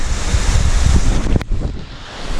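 A waterfall on the beach at Sandsend pours with a loud, steady broadband rush, mixed with wind buffeting the microphone and one brief sharp knock partway through.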